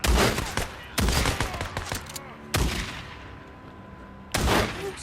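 A shotgun in the video game Days Gone booms loudly four times at uneven intervals, each blast followed by a short rattling tail, with a low background drone between shots.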